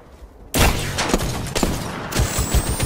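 Gunfire in the video game Apex Legends erupts suddenly after a quiet start and keeps going as a loud, dense barrage of shots with sharp cracks, close up and with no talking over it.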